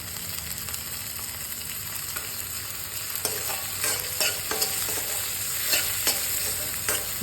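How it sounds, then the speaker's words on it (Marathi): Green peas sauté with tomato in a pan under a steady hiss of frying. The stirring grows busier partway through, with repeated scrapes and taps of the utensil against the pan. "मटार पण थोडा आपण याच्यासोबत परतून घेणार आहोत"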